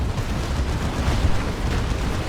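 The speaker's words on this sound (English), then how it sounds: "Plasma Cannon with some friendly fire there, maybe." Plasma cannon blasts in Dawn of War 2 during a 3v3 match, a dense, continuous rumble of layered explosions and booming impacts with steady, loud low-end energy throughout.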